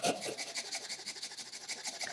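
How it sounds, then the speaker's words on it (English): A saw rasp shapes a wooden hammer handle, making quick, steady rasping strokes that repeat in a close, even rhythm with no talking. "the saw rasp takes off material fast and you don't need to worry about grain direction"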